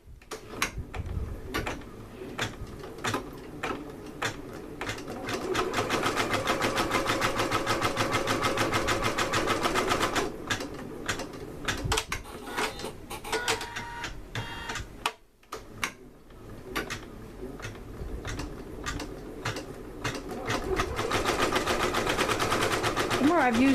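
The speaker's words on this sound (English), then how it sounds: "once this starts sewing the satin stitch" An embroidery machine stitches a satin stitch on a onesie held in an easy hooping frame, giving a steady rapid mechanical chatter that runs nearly throughout, with a brief pause midway and a voice speaking over it.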